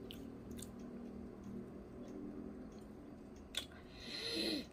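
Quiet, close chewing of toast popcorn (fried bread cubes), eaten with tongs, with soft squishy, wet mouth sounds and a few small crunches, no talking.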